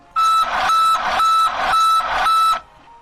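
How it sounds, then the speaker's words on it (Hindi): Instrument cluster of a Mahindra Blazo X BS6 truck sounding its DPF regeneration warning: five loud, close electronic beeps in a quick even rhythm, each lasting about a third of a second, then silence. "बीप की आवाज भी बहुत कम अंतराल पर सुनाई देगी"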